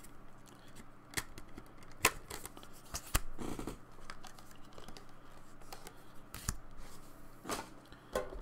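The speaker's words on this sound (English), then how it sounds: "let's go ahead and get our cards out that we have in here" Pokémon trading cards from an Obsidian Flames Collector's Chest are pulled out and handled, giving soft close-up shuffling, flicking and papery snaps that come in irregular bursts over quiet room tone.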